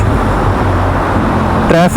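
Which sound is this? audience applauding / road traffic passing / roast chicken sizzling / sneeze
road traffic passing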